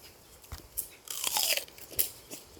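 Crunchy bites into a raw storage onion, with a few crisp, close crackling crunches, the loudest in the middle, and no talking.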